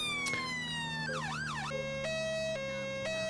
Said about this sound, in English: turn the sirens off as soon as we're near the crime.